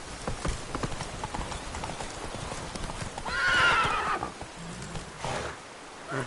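Roach, the horse in The Witcher 3, gallops with rapid rhythmic hoofbeats, and a loud whinny rises midway before the hooves carry on.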